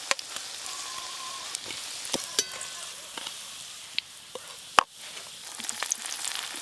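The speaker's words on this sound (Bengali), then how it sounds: "আবারও একই রকম ভাবে 3 পিস ভেজে নেব।" Poppy seed fritters fry in hot oil with a soft, even sizzle, punctuated by sharp clicks and taps from a utensil against the pan.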